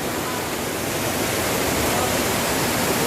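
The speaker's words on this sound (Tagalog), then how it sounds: "Yan o, yun yung falls yan." Steady, full rush of a waterfall and a clear river pouring over slippery rocks, a broad unbroken roar that stays constant throughout.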